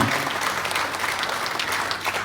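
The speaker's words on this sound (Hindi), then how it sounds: "जोरदार तालियों से स्वागत कीजिए उनका" An audience applauds warmly for the father of a Vir Chakra–awarded Kargil war captain as he takes the stage, a steady, dense wash of clapping throughout.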